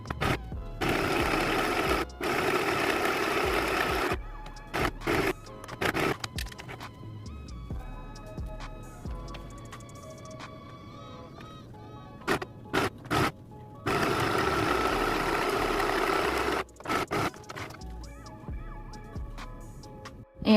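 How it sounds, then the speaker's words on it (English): A sewing machine stitches darts on a skirt in several loud, fast-whirring runs separated by pauses with light handling noises, no talking. "I'm gonna sew. Ayan. From here to here, make sure na pantay yung pagtahi nyo"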